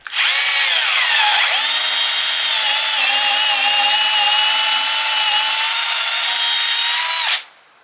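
A power drill bores a long bit through thick wooden table legs, a loud sustained whine that rises as it spins up, holds steady under load for about six seconds, then stops abruptly.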